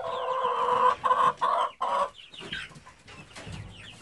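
Hen clucking on a farm after laying an egg, a few loud close clucks in quick succession, then quieter scattered fowl sounds.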